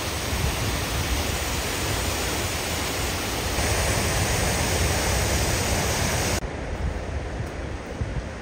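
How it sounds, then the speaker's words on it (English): Waterfall flowing down to a beach beside a rutted hiking trail, a loud, dense, unbroken rush of falling water with no voices. "you are welcomed by sweet looking waterfall that leads down to the beach"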